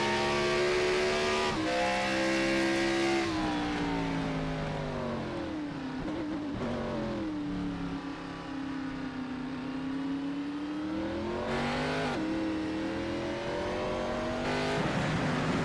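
Racing cars at the Red Bull Ring brake hard into a big right-hander and accelerate out on heavy throttle, engine pitch sweeping down then climbing steadily, loud and continuous, with gear changes breaking the whine.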